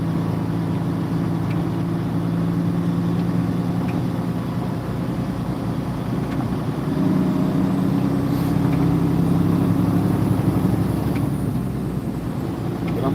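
A loaded truck idles in backed-up traffic behind a snowplow on a snowy road, its steady low engine rumble running continuously and close by with a slight swell in the middle.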